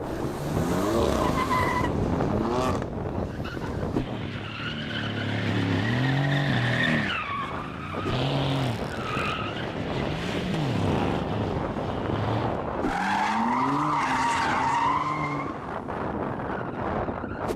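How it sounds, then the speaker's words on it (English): Cars doing donuts, among them a Lexus RC, BMW M4 and M3 and Mercedes C63 S AMG, produce loud, sustained tire squeal and skidding with engines revving hard in rising and falling waves throughout. "The other cars, they've got to go and do some donuts"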